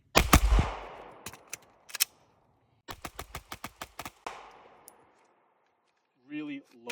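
Rapid pistol fire at a shooting range comes as a sharp single shot with a long decay, then two more. A tight string of quick cracks follows, with a brief voice near the end.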